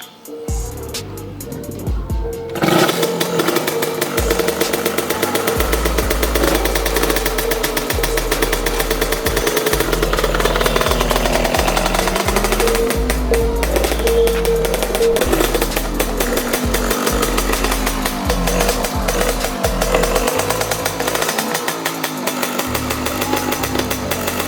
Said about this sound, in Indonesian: sekarang gue mau cek sound motor ini